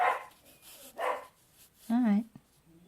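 Several dogs bark indoors in a lively back-and-forth of two or three rough yaps, moderately loud and slightly distant, while a person talks over them.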